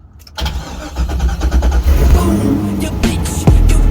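A drift Corvette cranks and fires up for the first time, loud and close, with rapid starter chatter catching into a rough, lumpy idle and then a sharp rev near the end.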